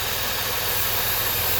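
A car engine idling high, with an evaporative emissions leak and a split purge valve line, giving a steady, dense mechanical hum and hiss with no talk.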